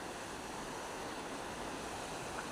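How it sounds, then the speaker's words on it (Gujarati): Swollen Ghelo river in flood, running bank to bank after heavy rain, giving a steady, dense rushing roar of water that holds constant throughout with no voices. "આ રીતના ઘેલો નદી જો બે કાંઠે આવી ગઈ છે"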